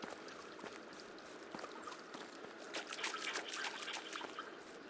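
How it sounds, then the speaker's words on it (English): A waterfall in Medieval Dynasty runs as a steady, soft trickling and splashing stream of water, quiet and continuous with no voices. "we'll run down here to the waterfall"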